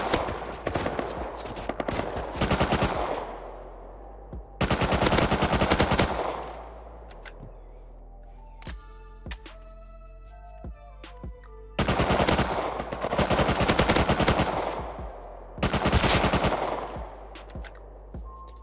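Video game Rust gunfire: long bursts of rapid automatic fire in several loud volleys, split by quieter gaps holding single shots and ringing tonal game sounds.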